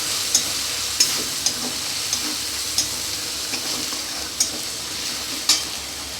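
Spice paste with chili powder frying in a pan, a continuous loud sizzle punctuated by regular metal spoon scrapes and taps roughly every half second to second, no talking.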